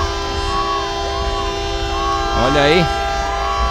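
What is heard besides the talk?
truck horn honking loudly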